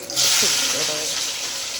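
Hot water splashes and pours into a cooking pot with a bright hissing rush, a short clatter of utensils at the start, then a steady hiss.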